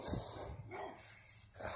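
A basset hound barks a few times at close range, deep woofs over a noisy background.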